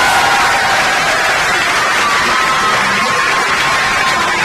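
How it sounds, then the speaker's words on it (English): Loud, sustained applause and cheering from a school crowd at a senior awards night, a dense roar of clapping with shouts and whoops running continuously. "Please help me congratulate Colby Paling with a round of applause"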